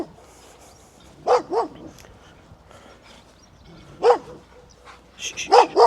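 A dog barks beside a river walk, loud, sharp barks coming in short bursts of two or three, separated by quieter pauses with faint background sound.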